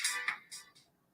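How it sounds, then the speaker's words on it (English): A mobile phone ringtone plays a short bright electronic melody of a few quick chiming notes, close and clear, then cuts off into quiet. "I'm sorry, that was my phone."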